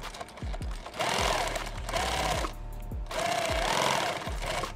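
Sewing machine stitching a Thermacell pouch, loud close mechanical whirring in three runs with brief pauses between, punctuated by rhythmic needle thumps.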